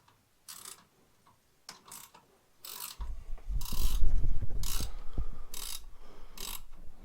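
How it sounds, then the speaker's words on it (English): Ratcheting clicks from a bolt being tightened to open the clutch on a 2010 Arctic Cat 800HO snowmobile, sparse at first and then denser with a mechanical grinding rumble, close up. "So as I'm tightening it, you'll see the sheath is moving and the belt's falling down into the clutch."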